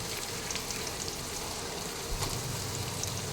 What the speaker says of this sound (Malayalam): അപ്പോൾ വെളിച്ചെണ്ണ ഇവിടെ ചൂടായി വന്നിട്ടുണ്ട്. അതിലേക്ക് ഇനി സവാള അരിഞ്ഞത് ഇട്ട് കൊടുക്കാം.